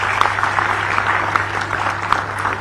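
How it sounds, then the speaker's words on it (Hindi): Steady clapping from an audience at a government appointment-letter ceremony for doctors in Ranchi, a continuous even wash of many hands with no talk over it. "तालियां आपकी तरफ से हो।"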